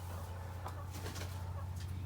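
Chickens cluck softly inside a small enclosed hen house with a single opening, faint and intermittent over a steady low hum.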